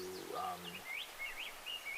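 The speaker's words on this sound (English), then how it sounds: "Birds are so beautiful right now." Birds sing outdoors near a creek, with several faint, distant chirps and short whistled phrases over a quiet hiss.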